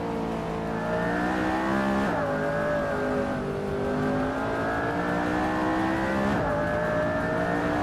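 Race cars in a racing video game roar close and loud as they jostle for position during an overtake, engine pitch climbing through several gear shifts, with faint tire squeal underneath and no talking.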